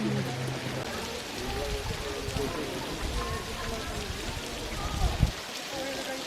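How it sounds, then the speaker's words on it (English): Water trickles down rock toward the Emerald Pools in Zion National Park in summer: a steady, soft, rain-like hiss of spattering drops with a brief louder splash near the end. "you can hear the water trickling down from the top all the way down here to the bottom"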